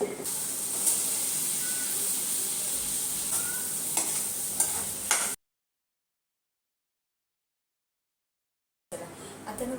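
Tempering of onion, tomato, green chilli and garlic crackling in hot oil for a dry potato dish, a continuous close sizzle with scattered pops that cuts out into silence midway, then resumes briefly.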